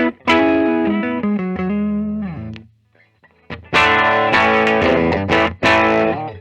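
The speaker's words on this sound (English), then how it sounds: "I think we need to switch over to a little bit of distortion to give this thing a real go." A 2021 Gibson Collector's Edition 1958 Korina Flying V electric guitar played loud through distortion, sustained singing notes and chords with a short pause, then another run of rich, driven phrases.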